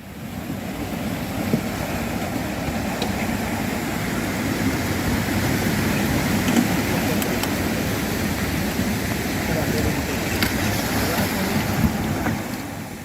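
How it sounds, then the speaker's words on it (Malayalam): Constant roar of strong surf and gusting wind at Thaikkadappuram, Nileshwaram, Kasaragod, loud and unbroken, with occasional faint knocks in the background. "ശക്തമായ തിരയിലും കാറ്റിലും കാസർഗോഡ് നീലേശ്വരം തൈക്കടപ്പുറത്ത് ബോട്ട് തകർന്നു"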